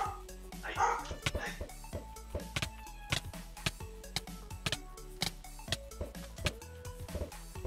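A pet dog barks indoors in short bursts, mixed under steady talking and busy video game sounds and music during a Dutch gaming session.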